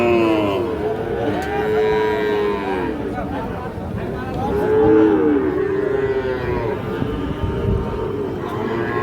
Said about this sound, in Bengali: শাহিওয়াল ষাঁড় বাচ্চা।